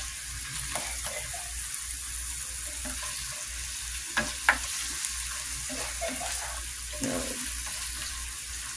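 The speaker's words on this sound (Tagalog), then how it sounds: "Nagigisa po tayo habang po nagpapakulo po ng ating pasta" Garlic and mushrooms sauté in olive oil with a steady hiss and crackle, while a utensil scrapes and taps the pan now and then. A louder clatter comes near the middle.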